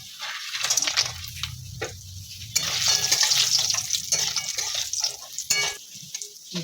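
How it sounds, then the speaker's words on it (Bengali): Lentil dumplings (bori) frying in oil after vegetables give a close, crackling sizzle that swells and eases, with stirring scrapes and a low steady hum underneath. "বড়ি ভাজা হয়ে গেছে, এবার তুলে নেব।"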